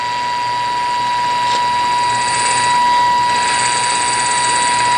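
A radio tuned slightly off station picks up a test tone from a signal generator, a steady high whine riding over constant hiss and static for the whole stretch, with a faint hum underneath.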